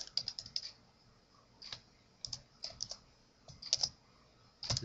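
Fingers tap out short bursts of keystrokes on a computer keyboard, close and clicky, with brief pauses between the runs and no voice over them.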